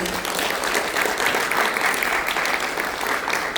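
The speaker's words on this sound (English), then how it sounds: "Can we please give them a round of applause?" Audience applause at a business mothers' society showcase, a steady, dense wash of clapping from a sizeable crowd that holds evenly at full strength for a few seconds.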